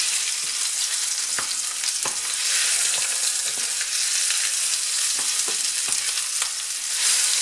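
Filet mignon sears in a hot pan with a loud, constant sizzle. Scattered sharp pops and crackles break through the frying, and no voices are heard over it.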